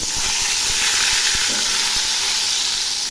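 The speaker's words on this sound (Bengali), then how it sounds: "এখন আমি বেগুনগুলো ছেড়ে দিচ্ছি" Eggplant slices dropped into hot mustard oil in a wok sizzle loudly, a steady close-up hiss of frying that runs unbroken from start to finish with no talk.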